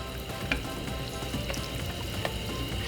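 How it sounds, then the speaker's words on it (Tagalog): Eggplant, string beans and okra being stirred in a sinigang pot, a steady soft sizzle with a few sharper clinks and scrapes of a utensil scattered through, close and fairly quiet. "Haluin lang natin yan guys"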